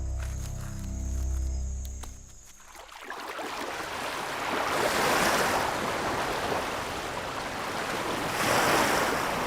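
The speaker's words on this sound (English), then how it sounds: "warm tropical waves lapping over a white sandy shore" Warm tropical waves wash steadily onto a white sandy beach on Zanzibar. The surf is loud and continuous, with swelling rushes of foam, and a low rumbling hum fades out near the start.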